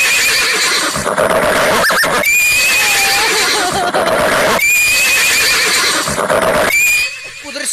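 A horse gives loud, close, repeated whinnies in two long shrill bursts, with fainter snorts between them and no talk over it.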